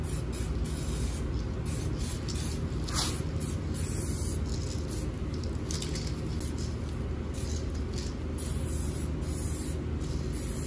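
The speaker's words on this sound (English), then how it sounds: "we are going to be spraying the 2K gloss on the grill now and then on the front emblem" 2K gloss is sprayed onto the grill of a Mercedes CLA during a chrome delete, a continuous close, loud hiss of spray with slight pulsing from the gun and no talking.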